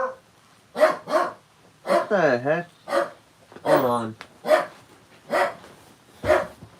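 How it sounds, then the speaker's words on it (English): A pet dog barks in a string of sharp, repeated barks close to the microphone indoors, with a voice speaking between and over them. "What are you barking at?"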